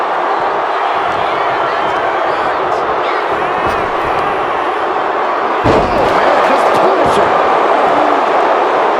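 Arena crowd roaring steadily through a WWE 2K25 wrestling match, a dense loud wall of cheering with a sharp slam-like impact and a surge partway through.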